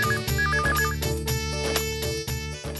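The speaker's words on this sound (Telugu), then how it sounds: "ఫోన్ మోగుతుంది కానీ ఎవరో చూడు" A phone rings with a looping electronic ringtone melody, loud and close, with nothing else heard.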